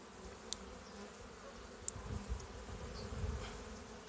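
Calm honeybees drone steadily around an open hive during a spring inspection, a close, continuous hum with a few faint clicks and handling bumps.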